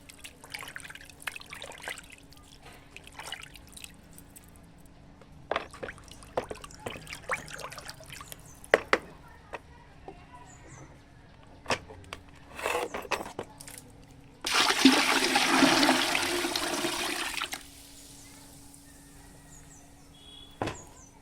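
Water with banana peels that have soaked for three days trickles and drips as it is stirred, with scattered splashes and clinks. A louder steady pour runs for about three seconds midway.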